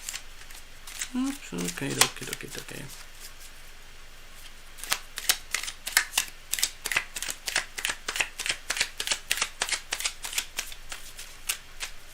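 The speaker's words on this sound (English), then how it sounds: "Cards are marginally shuffled, but we're going to go a little bit deeper here, just to make sure." Tarot cards being shuffled by hand in a rapid train of crisp riffling snaps, close and fairly loud, following a brief spoken exclamation near the start.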